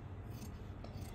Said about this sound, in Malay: Gunting bahagian luar saja dulu.